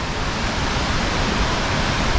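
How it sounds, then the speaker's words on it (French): The wave pool at Universal's Volcano Bay water park gives off a continuous broadband rush of churning water, steady and fairly loud, with no distinct voices standing out. "vous la connaissez cette plage avec les vagues, piscine à vagues de ouf"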